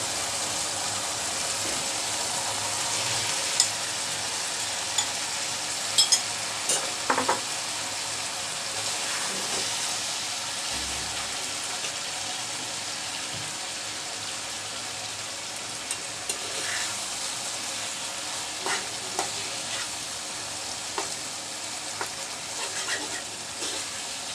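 Scrambled egg sizzling steadily in spiced oil in a pan for egg jhuri bhuna, with occasional scraping stir strokes and soft clicks over a continuous close frying hiss.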